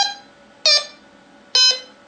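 A Tesoro Conquérant metal detector with the Tona'Max v2 adjustable-tone module gives out loud, close electronic tones. Two short bursts are heard, each with a sharp start, over a steady lower hum that lasts throughout.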